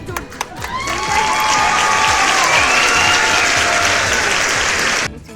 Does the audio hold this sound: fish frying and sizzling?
no